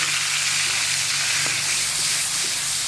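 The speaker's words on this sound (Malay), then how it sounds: "Kita goreng dulu ni." A constant close sizzle of spices frying in hot oil for gulai kapau, bright and hissing, steady throughout with no talking.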